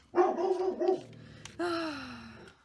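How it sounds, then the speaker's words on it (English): Dog barking indoors in a short rapid burst of close, loud yips, followed by a brief high whine trailing off. "Lainey, I don't know what you're barking at"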